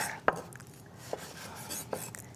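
A knife slicing through toast bread, with three or four distinct crisp cuts spaced irregularly against a quiet kitchen background.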